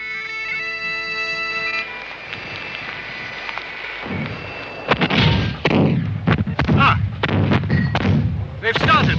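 Rebel artillery cannon fire at the Battle of Culloden, 1746: after a quiet tonal passage, a run of heavy booming shots begins, several sharp blasts in quick irregular succession, loud and close, with no talk over them.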